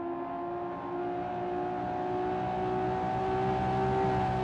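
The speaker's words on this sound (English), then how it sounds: "savor the sounds coming out from that fantastic ride" A historic GT race car engine in the video game Assetto Corsa drones steadily, its pitch slowly climbing as it accelerates, loud and continuous with no voices.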